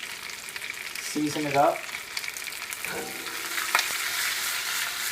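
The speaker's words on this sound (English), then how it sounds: "And I'm going to add my baby bok choy." Baby bok choy sizzles and sautés in a hot pan, a steady frying hiss that swells sharply as the greens hit the oil, with a voice speaking briefly over it.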